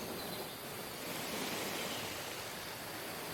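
Ocean waves wash steadily in a soft, broad hiss of surf, a continuous and fairly faint ambience with no distinct breaks or voices.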